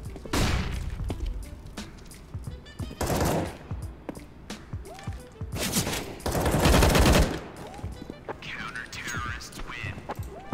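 AUG rifle fire in CS:GO comes in several loud, sharp bursts of rapid shots separated by short pauses, with people talking between and over the shooting.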